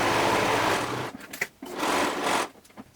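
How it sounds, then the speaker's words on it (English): A serger sewing machine stitches along a fabric edge in two fast, whirring bursts separated by a brief pause, loud and close, ending with a few light mechanical clicks. "And then lower the presser foot and continue to stitch"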